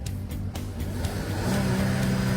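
A car engine starts after a few short clicks and knocks, then settles into a steady running hum that grows louder toward the end as the revs rise slightly.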